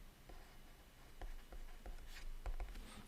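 Someone writes on a board while working through math, producing a few faint, quiet strokes and taps in a short stretch.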